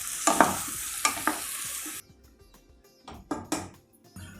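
Peas, tomatoes and mixed vegetables sauté in a pan for a vegetable biryani, a loud sizzle for about two seconds with a few spatula strokes, then the frying drops away to quieter stirring scrapes and knocks.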